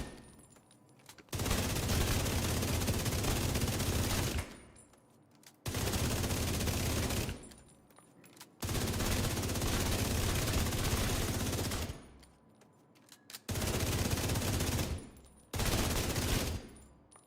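Video game gunfire during weapon damage testing, loud sustained bursts of rapid automatic shots in five long volleys separated by brief quiet gaps, with no talking.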